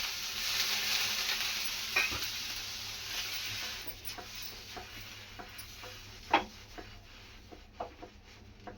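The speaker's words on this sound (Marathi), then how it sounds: "झालाय घावना काढून आता परत एकदा टाकते" Konkani ghavane rice crepe batter frying on a hot pan, giving a steady close hiss with occasional soft scraping and tapping of a utensil, no talk.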